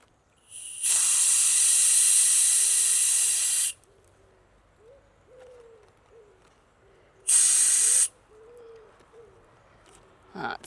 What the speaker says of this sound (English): Bit more air out my tyres.